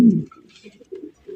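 Racer pigeons coo inside a cage, a few soft, low, rolling coos in short bursts close to the microphone, with no voices.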